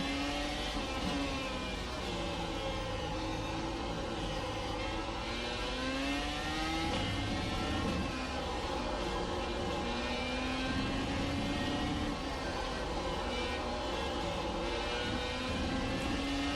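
A Dallara iR-01 race car in the iRacing sim holds a continuous high engine whine, pitch rising and dipping as the throttle is worked through a final corner, steady and prominent throughout.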